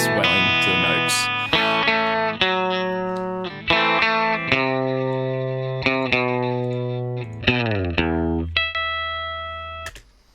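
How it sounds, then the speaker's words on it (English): A guitar solo run through two compressors, with bright, sustained notes swelling and ringing long after each pick attack in a steady melodic line, loud and alone with no talking. "the second compressor adds a lot more sustain and swelling to the notes."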